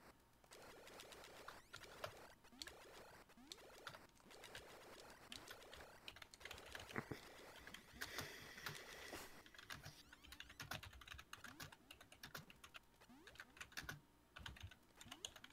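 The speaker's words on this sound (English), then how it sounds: "Somebody's really typing." Rapid, busy typing on a computer keyboard, a dense patter of clicks running steadily throughout at fairly close range, with no voices over it.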